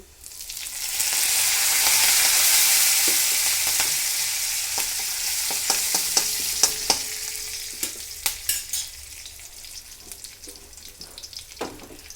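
Garlic, cumin, mustard seeds and curry leaves frying in hot oil for a yogurt kadhi, a loud broad sizzle that slowly fades while sharp seed pops and spoon clicks crackle throughout, with no talking.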